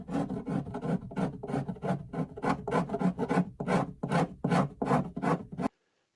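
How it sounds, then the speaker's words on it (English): Repeated rasping scrapes of a scraper removing residual glue and fabric from a Singer 201K sewing machine case, in a steady back-and-forth rhythm, close and fairly loud, about a dozen strokes before stopping abruptly. "I then used a scraper to remove the residual glue and the fabric."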